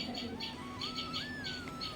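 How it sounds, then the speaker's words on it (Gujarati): Sparrows chirp in quick repeated bursts at moderate distance, with a thin whistling call drifting underneath, fairly soft overall. "હવે જો ચકલાનો અવાજ આવે ક્યાંકથી"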